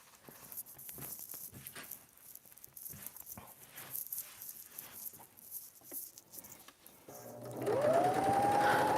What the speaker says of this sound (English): On my Juki, on my industrial sewing machine